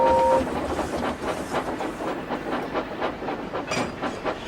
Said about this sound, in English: Gordon came clanking in with the express.